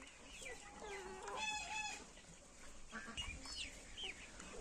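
Black Copper Marans hens cluck and murmur close by, with a few sharper squawks and a distant crow, the calls scattered irregularly over soft background noise.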